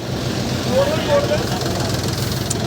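A tractor engine idles with a low, steady rumble throughout at an outdoor tractor market, with faint voices and background activity around it.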